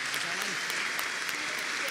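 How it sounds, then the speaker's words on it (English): An audience applauds at the close of a panel during Cardano Tech Week, a dense, even wash of clapping that holds steady for the whole stretch, with faint speech underneath. "Please, applause."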